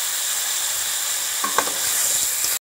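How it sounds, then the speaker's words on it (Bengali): Eggplant fries in hot oil with a steady loud sizzle, a few scraping knocks of stirring near the middle before it cuts off abruptly. "বেগুনগুলোকে একটু ভেজে নেব।"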